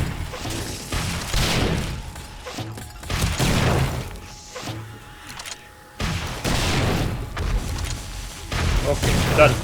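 Gunfire and crashing impacts against a zombie horde in 7 Days to Die, with dense bursts of shots and smashes coming in waves, partly under someone talking.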